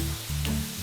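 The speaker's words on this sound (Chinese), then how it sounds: "然后把泡发的香菇倒进去炝锅" Soaked shiitake mushrooms tipped into a hot wok of oil with ginger, shallots, star anise, cinnamon and Chinese sausage give a short, moderately loud sizzle under a low steady hum.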